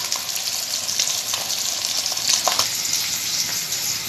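Onion and chili frying in a pan, a steady bright sizzle running the whole time with small crackles and spatters, close and fairly loud, no voices.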